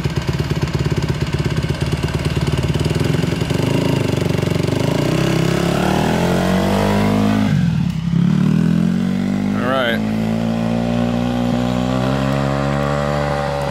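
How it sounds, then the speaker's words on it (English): A motorcycle engine runs and revs steadily, loud and close throughout, rising and falling in pitch, with voices talking over it. "that bike sounds good"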